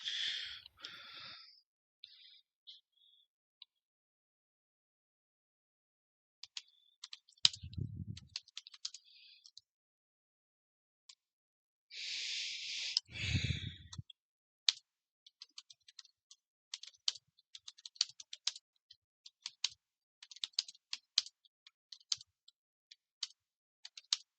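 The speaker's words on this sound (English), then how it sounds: "I don't know if you can hear me typing" Faint, scattered clicks of typing on a computer keyboard come in irregular bursts in a quiet room, with a couple of soft low thumps along the way.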